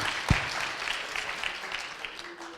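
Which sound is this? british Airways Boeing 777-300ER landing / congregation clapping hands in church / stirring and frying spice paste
congregation clapping hands in church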